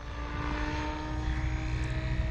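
An RC helicopter on its maiden flight hovers nearby with a steady, loud rotor whine and buzzing motor drone that hold evenly throughout, with no talking.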